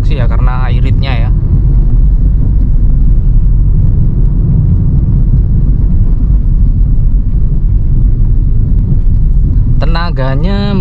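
A Toyota Vios second-generation car driving on a mountain road, with a loud, steady low engine and road rumble filling the cabin throughout and a person talking briefly at the start and near the end.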